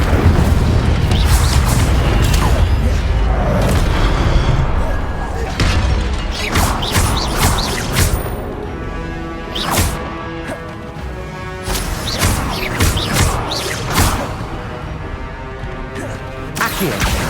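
Incendio fire spell cast in Hogwarts Legacy, a run of loud booming, crashing bursts repeated through combat over a continuous rumbling game backdrop, with sharp cracks at intervals and a voice speaking in places.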